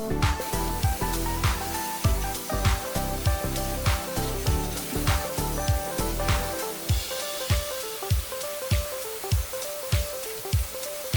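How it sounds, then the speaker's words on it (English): Short repeated bursts of spray paint hiss as a black base coat goes onto a vintage TV cabinet being turned into a bar, each spray a few seconds apart, close and fairly quiet, with no talking. "I spray on our base coat of black"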